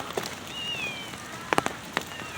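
Rain falling outdoors on a wooded hillside, a steady soft patter with a few sharper drops and faint high cries over it, no talk.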